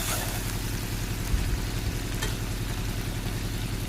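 Frying in hot oil while cooking Dhoniya Tangra fish, a steady close sizzle with a low hum beneath, continuous and even, with no talking.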